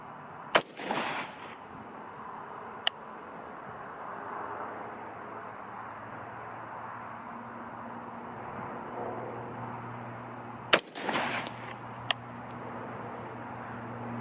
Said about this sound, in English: First 3 shots.